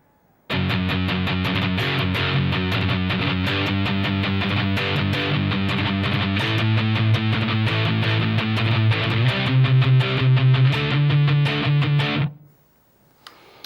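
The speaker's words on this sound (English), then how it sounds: "we're just going to play an accented first chord and then 3 palm muted downstrokes after" Loud distorted electric guitar playing power chords, chugging steadily, an accented chord followed by three tight palm-muted downstrokes repeating in a driving rhythm, ending abruptly.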